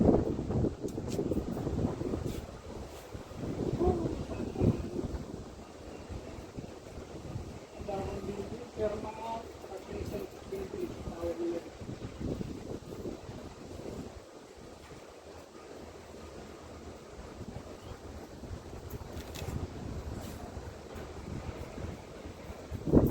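Steady wind gusts buffet the microphone outdoors, rumbling and rising and falling, with people talking intermittently over it.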